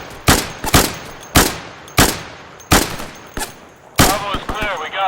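Gunfire in the video game Insurgency: a run of sharp, loud single shots at irregular intervals, close by, with a brief ringing tail after the last burst.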